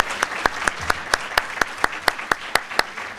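Sparse applause at a founders dinner honoring a professor's induction into the National Academy of Engineering: sharp, evenly spaced single claps, about four per second, close and fairly loud.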